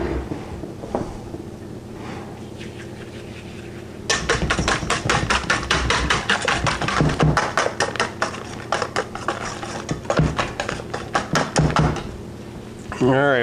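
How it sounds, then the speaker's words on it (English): Egg whites and sugar are whisked by hand in a bowl, a rapid, close clatter of wire against the bowl that starts after a few seconds and runs steadily, with a person talking over it. "let's go ahead and start whisking our egg whites"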